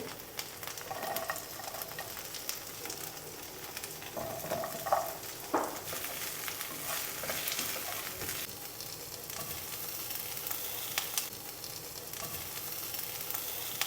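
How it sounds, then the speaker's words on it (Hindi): Onions sauté in a pan with ginger garlic paste, chillies and spices, giving a steady sizzle and frying hiss with occasional stirring scrapes, close by and with no voices. "हम पहले अपने अनियन को सॉटे करेंगे, कुछ जिंजर गार्लिक पेस्ट डालेंगे, मिर्ची डालेंगे, स्पाइसेस डालेंगे"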